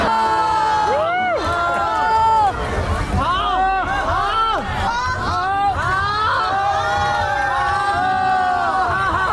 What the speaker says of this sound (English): whenever a new fish passes by, there will be some big noise from the crowd